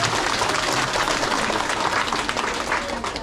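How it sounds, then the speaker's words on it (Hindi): Dense, continuous clapping from an audience fills the whole stretch, a steady wash of hand claps with no pauses, close and fairly loud. "ताली बजा दो एक बार ना।"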